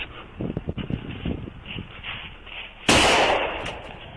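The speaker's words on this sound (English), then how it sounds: "starts firing shots at the police" A dashcam records gunshots fired at police: muffled, band-limited noise and movement give way to one sudden loud, harsh blast near the end that rings on briefly.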